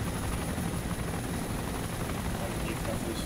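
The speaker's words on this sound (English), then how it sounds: "Guys got a Huey up in the air." Steady chopping drone of a Huey helicopter in the survival game DayZ Epoch, a continuous dense rotor roar filling the scene at moderate level without a break.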